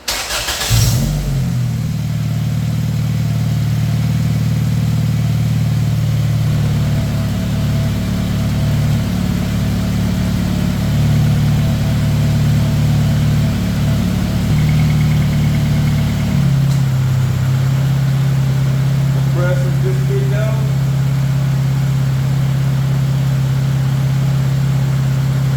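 A Honda car engine starts with a sharp crank, then settles into a loud, steady idle with the AC on high, the hum shifting pitch partway through while faint clicks and tones appear near the end.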